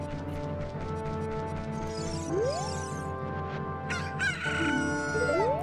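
A chicken crows in the video game Zelda: Majora's Mask, loud and close: rising squawks and a cock-a-doodle-doo call with clucks over a continuous game music bed, with no talking.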